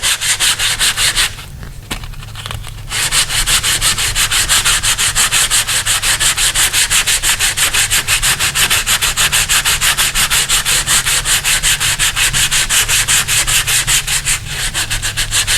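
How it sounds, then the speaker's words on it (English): Light, rapid sanding strokes rasp across a repaired dent in a metal door, a loud, steady back-and-forth scratching that runs almost continuously with a short pause near the start. "we're just going to sand it very lightly now, not too hard, just to try to get it as fairly smooth as possible"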